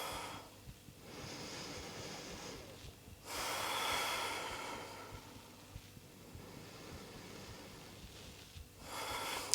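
Slow yoga breaths during a vinyasa flow pose: soft, airy inhales and exhales in long, even waves, close and fairly quiet, with no talking.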